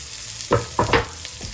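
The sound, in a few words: walnut taco meat browning in a skillet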